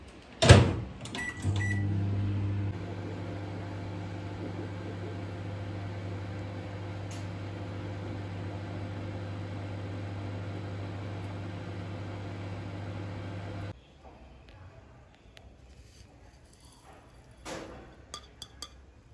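A microwave door clicks shut with a beep, then the microwave hums steadily for about twelve seconds heating a coffee mug before stopping, followed by a few clinks.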